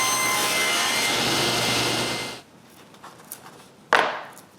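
A power saw cuts a notch into a piece of wood, a loud steady whine for a couple of seconds that then stops abruptly, followed by quiet handling noises and a sharp knock.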